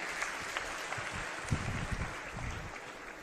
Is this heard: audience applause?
yes